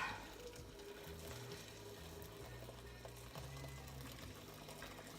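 Tap water running into a soup pot while making potato and leek soup, a steady close splashing fill that continues without talk throughout.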